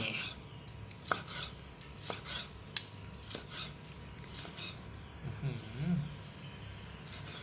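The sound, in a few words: slicing grilled pork with a knife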